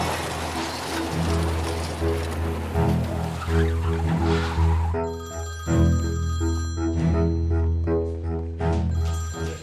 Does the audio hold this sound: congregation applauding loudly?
no